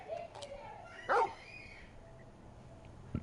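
A large dog companion, Torgal, in Final Fantasy XVI gives one short, loud bark amid quiet game ambience, with a faint whimper-like sound and a soft thump nearby.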